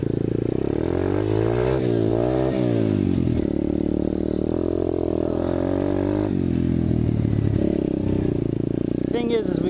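An Apollo 125cc dirt bike in first gear on a trail, its engine rising and falling in pitch as it accelerates, close and steady throughout the run.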